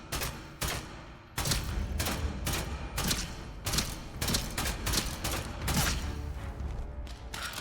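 Gunshots in the video game Atomfall: about a dozen sharp reports fired in irregular bursts, with mechanical clicks between them and no voice over the shooting.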